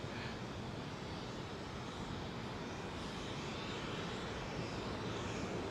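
An airliner departing overhead from London Heathrow runway 09R produces a loud, continuous broadband engine roar that stays steady and close for the whole stretch, with no other sounds.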